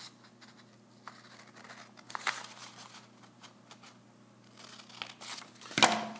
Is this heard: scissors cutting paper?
yes